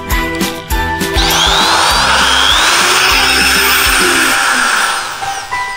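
A Bosch GBM400 electric drill runs loud and close, its whine rising and falling as the variable-speed trigger is pressed and eased, with a few brief stops and restarts near the start.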